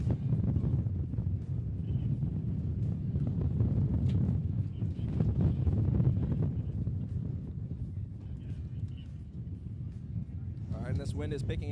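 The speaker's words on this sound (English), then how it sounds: "This wind is picking up once again." Wind gusts across an outdoor raceway at a Formula Drift ProAM round at Sebring, giving a low, rumbling buffet on the microphone that surges and eases steadily throughout.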